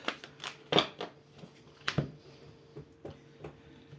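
Tarot deck being cut by hand, giving soft papery card slaps and riffles in short, irregular bursts, quiet and close with no talking.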